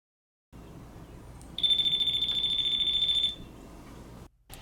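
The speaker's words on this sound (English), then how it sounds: "I always begin electrical projects by testing for voltage using a voltage tester pin." A voltage tester pen, checked at a ceiling porch light fixture, gives one steady high-pitched beep lasting under two seconds against a quiet background hum.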